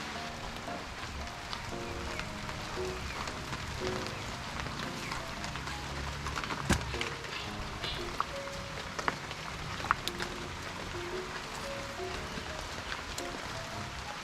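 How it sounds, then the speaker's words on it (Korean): Rain falls steadily in the Philippines as a continuous soft hiss with scattered drip taps, faint and even throughout. "비가 툭툭툭 내리네."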